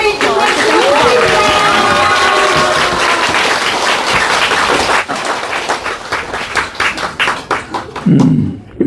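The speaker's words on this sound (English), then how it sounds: "Let us give our applause to" Audience applause at a spiritual gathering, loud dense clapping that thins after a few seconds into scattered individual claps and thumps, with a brief voice near the end.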